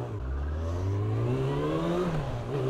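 Suzuki Bandit 650 GSF four-cylinder motorcycle engine revving, a loud close smooth rising howl that climbs steadily in pitch, dips briefly and picks up again, with no talk over it.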